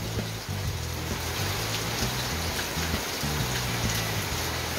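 Steady heavy storm rain without wind hisses and patters on a nearby surface, constant and dense, with no thunder or voices.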